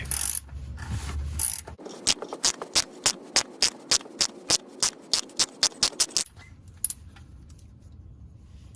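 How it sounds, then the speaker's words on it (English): A wrench ratchets as it breaks loose the oil filter on a 2018 Toyota Highlander during an oil change: a steady run of about seventeen crisp, evenly spaced clicks, close and distinct, then quiet. "take your wrench, put it in there, and just"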